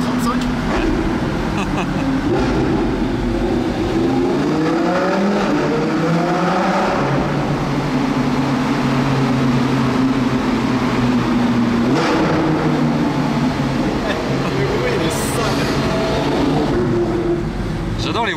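An Audi R8 V10 with a Capristo exhaust drives through a tunnel, its engine note climbing and falling through revs and downshifts, loud and close inside the car, with people talking over it.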